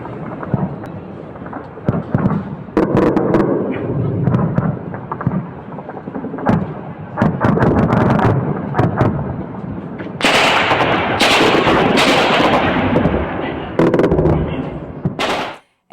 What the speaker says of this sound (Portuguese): Tem um vídeo em que a gente pode ver a defesa antiaérea ucraniana abrindo fogo.